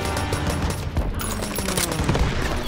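Sustained WWII-era gunfire from Call of Duty WWII, a dense, continuous fusillade of rapid shots and booms close up throughout, with a faint shouted voice buried in the battle din.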